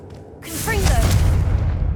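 A Confringo fire spell from Hogwarts Legacy bursts with a sudden bright crack, followed by swooping whistling tones and a deep sustained rumble that holds loud to the end.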